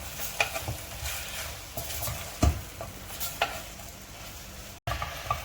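Mutton fries in a pan with turmeric and salt while a spoon stirs it, steady sizzling under scraping strokes and one louder knock partway through.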